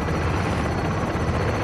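Helicopter in Call of Duty Modern Warfare II, a loud, steady rotor thrum and engine roar held close and continuous throughout, with no voices over it.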